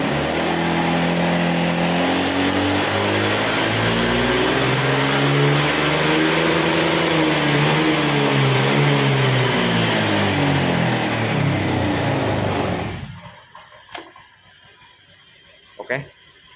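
A Honda Vario 125 scooter engine revs steadily and loudly up and down for about thirteen seconds, then cuts off, leaving near quiet with a couple of faint clicks.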